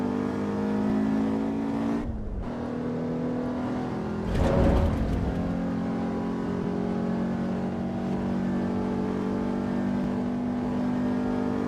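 Video game car engine droning steadily at a constant pitch through the whole stretch, with a short dip and then a brief louder surge of revving partway in, no talking.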